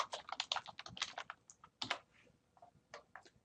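A feedback comment typed on a computer keyboard, a brisk burst of close, quiet key clicks that slows into a few scattered taps toward the end.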